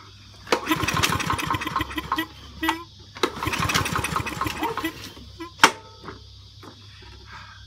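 A small petrol engine is pull-started after fresh fuel is added and won't catch: two longer bursts of sputtering, chugging cranking, then short tugs and a sharp knock, close by with quiet gaps between.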